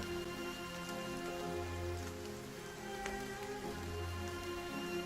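Steady rain falls continuously, a dense, even hiss of drops on surfaces that stays constant from start to finish with no voices.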